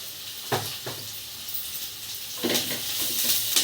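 Cumin and mustard seeds sizzle in hot oil with turmeric, a soft steady hiss broken by a few sharp crackling bursts and spatters close by.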